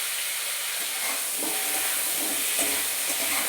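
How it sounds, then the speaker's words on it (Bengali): Pumpkin pieces frying in oil with already-fried yardlong beans for a vegetable curry with red amaranth stems, a continuous dense hiss and sizzle with faint utensil scrapes underneath, no voices. "তো কুমড়োটা হালকা করে ভেজে নেব।"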